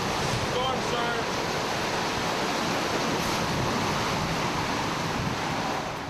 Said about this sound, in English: It pushes the seawater right into the hotel lobby.